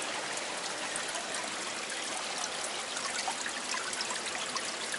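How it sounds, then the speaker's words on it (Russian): Spring water trickling steadily at a tourist complex, a continuous close bright splashing flow with no voices. "Вот это родник."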